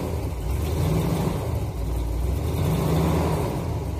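Steady, fairly loud engine rumble from a 1977 Chevy motorhome with a 500 short block, idling with mild revving throughout and no speech.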